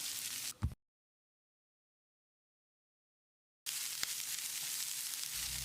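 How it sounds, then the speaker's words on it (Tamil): Steady sizzling of onions sautéing in a hot pan, a brief burst of it, then a silent gap, then the sizzle resumes loud and continuous. "வெங்காயத்தை கண்ணாடி பதத்துக்கு வதக்கிடலாம்."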